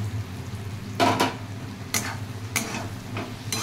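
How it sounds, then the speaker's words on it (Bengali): Boiled eggs stirred into a frying curry masala for Bengali egg curry, a faint steady sizzle broken by a few short scraping stirs of the spoon in the pan. "দেখ এরপর আমি দেখ ডিমগুলো দিয়ে আর একটু কষিয়ে নেব"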